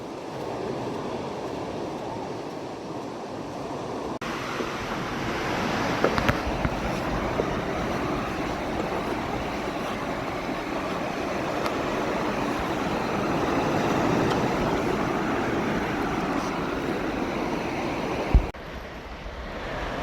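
Sea waves wash steadily into a cove in Cornwall as the tide comes in fast, a broad continuous surf roar with some wind buffeting, fairly close and without talking.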